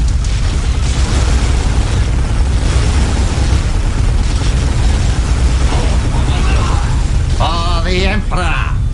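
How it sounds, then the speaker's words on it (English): A core overload explosion in Warhammer 40000: Dawn of War – Dark Crusade rumbles as a loud, sustained blast with heavy low boom, followed by voices calling out near the end. "Overload the core."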